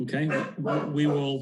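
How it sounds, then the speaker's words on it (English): A pet dog barks and yips in quick bursts at home during an online public meeting, its calls mixed with a person talking over it. "sorry, that's my dog there"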